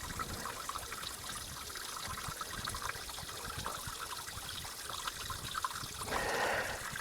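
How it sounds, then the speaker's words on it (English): Running water trickles steadily and quietly outdoors along a walking route, a continuous gentle babble that swells briefly near the end. "the lovely sound of that running water"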